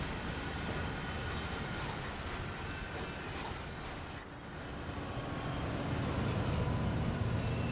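A freight train in Train Sim World 5 travels the San Bernardino line out of Cajon Pass, giving a continuous low rumble and rolling wagon noise at moderate level that swells slightly toward the end.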